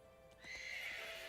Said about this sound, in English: There it is. It looks like a horse.